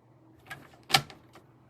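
A paper trimmer slicing card stock, a few quiet close clicks followed by one sharper cutting snap, alone in a quiet room.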